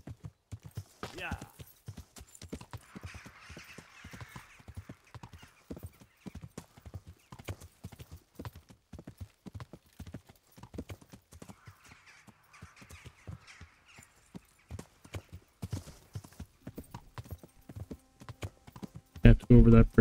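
Horse hooves beat in a steady galloping clip-clop in Kingdom Come: Deliverance, close and continuous for the whole stretch, with someone talking over them throughout.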